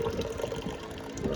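Silver nitrate solution being poured off into a stock pot during silver recovery, a faint steady liquid splash and gurgle with no talk.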